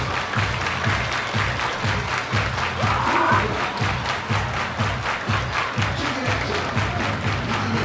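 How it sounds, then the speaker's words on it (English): A ballpark crowd at a Laredo Lemurs vs Kansas City T-Bones minor league baseball game claps and cheers in a steady, dense wash of applause that fills the whole stretch, with rhythmic pulses suggesting unison hand-clapping. "Everybody clap your hands."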